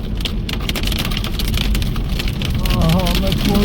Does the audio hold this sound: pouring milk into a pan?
no